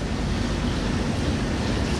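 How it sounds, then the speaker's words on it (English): A water feature at a café seating area in Dragon Town, Bangkok splashes as a loud, dense, continuous rush close to the microphone. "Nice little water feature there."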